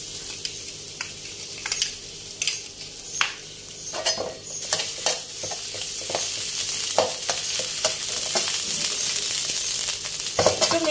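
Red curry paste stir-fried over low heat in a pan, with a soft continuous sizzle and repeated scraping clicks of a utensil stirring, moderately close and building slightly louder toward the end.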